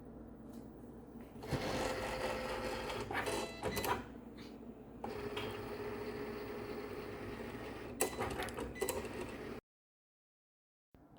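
A Cricut cutting machine works through iron-on heat-transfer vinyl on its mat, giving off a steady close mechanical whirring and buzzing with brief shifts and pauses before cutting off into silence near the end.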